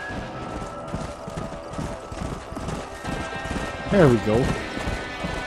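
Horses galloping in Red Dead Redemption, steady clip-clop hoofbeats throughout with a loud neigh near the end, while someone speaks briefly over them.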